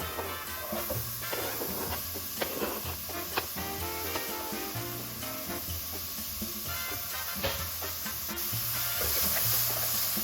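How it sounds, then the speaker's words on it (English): Onions sauteing in hot oil in a pan give a steady, close sizzle with occasional stirring clicks, running under continuous background music. "Once the oil is hot, we'll saute the onions."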